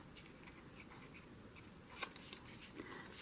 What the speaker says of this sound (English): I thought I would just rip, rip, rip all around the edge